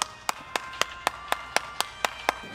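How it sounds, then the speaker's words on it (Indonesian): Hand clapping at a talk on a culinary business, a steady run of about ten sharp, evenly spaced claps in quick rhythm, close and distinct with no voices over them. "Tepuk tangan dulu, hore"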